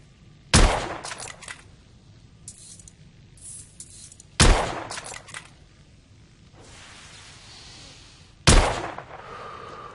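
Three loud, isolated gunshots boom out a few seconds apart in The Order: 1886, each a sharp blast with a short ringing tail and quieter game ambience between them.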